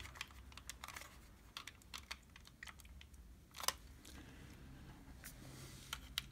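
Plastic clips on the casing of a Sony Walkman WM-EX190 cassette player are pushed open, making a series of quiet, sharp clicks and taps at irregular intervals, close up and faint, with one louder snap near the middle.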